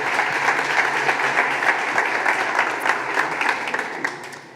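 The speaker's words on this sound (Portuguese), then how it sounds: "palmas para ele" A conference audience claps for a speaker, a full, steady round of applause from many hands throughout, fading slightly at the end, close and fairly loud with no talking over it.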